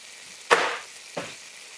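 Homemade french fries hitting hot oil give two short sizzling bursts, each fading quickly, a loud one followed by a softer second, with no talking.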